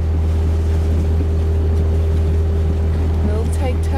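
A sailboat motoring under engine at night on open sea, with a steady low engine drone and water rush running throughout, close and constant, with faint chirping near the end.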